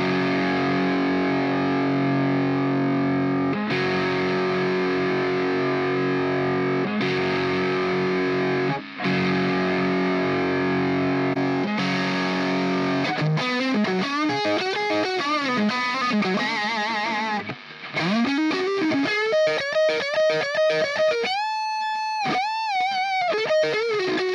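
Distorted electric guitar through a NUX MG-30 Friedman amp model, first sustained heavy chords, then faster riffs and bending lead notes with a chorus-like shimmer, loud and continuous.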